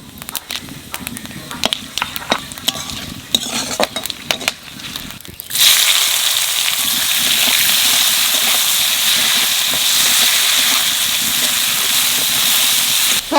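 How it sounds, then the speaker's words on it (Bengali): Onions fry in hot oil with cumin, bay leaf, cloves, cinnamon and cardamom. After some quiet clatter, a loud, continuous sizzling hiss starts suddenly and carries on steadily to the end. "পেঁয়াজ একটু ভাজা ভাজা হয়ে গেছে"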